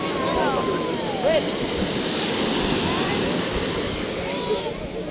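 Steady roar of sea waves and surf washing nearby at a boat launch, continuous and fairly loud, with people talking faintly underneath.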